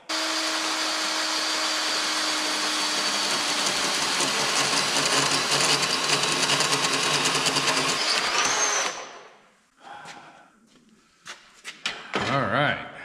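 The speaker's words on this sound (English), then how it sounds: "we got to drill a couple holes in here and bolt these in" A power drill bores holes through a bracket for an M715 fender: a sustained, close, loud whine for several seconds, then stopping, followed by short bursts and faint clatter with a voice in between.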